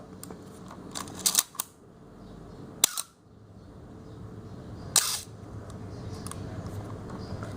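The shutter of a Canon AE-1 Program film SLR with shutter squeak fires three times at separated moments, each a sharp mechanical click with a slight squeaky edge, in an otherwise quiet room.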